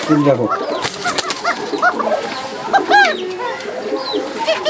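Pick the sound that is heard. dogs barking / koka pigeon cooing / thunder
koka pigeon cooing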